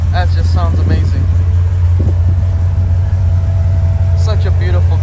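A car engine with no cam idles with a deep, steady low rumble throughout, while people talk briefly over it.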